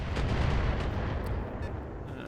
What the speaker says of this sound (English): He's auto-cannoning me and missiles.